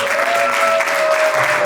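Church congregation at a seminar applauding steadily in a dense, even burst of clapping with a faint sustained tone underneath.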